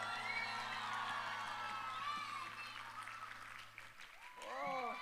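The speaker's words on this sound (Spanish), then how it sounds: "Claps, palmas para todos nosotros." A crowd at a Quechua pop concert claps and cheers, with scattered whoops and shouts over sustained music tones, the noise fairly faint and continuous before a brief swell of voices at the end.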